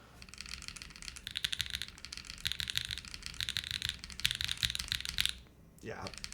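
Typing on a Jris75 mechanical keyboard resting on a key mat, fast continuous clacking in bursts that stops near the end, close and fairly loud, with brief noise after.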